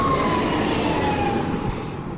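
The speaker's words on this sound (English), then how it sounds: "Fire engine just hurtled past round the corner, and now an ambulance is appearing" A fire engine siren wails and slides downward in pitch as it passes on a Boston street, loud against steady traffic rumble, fading slightly at the end.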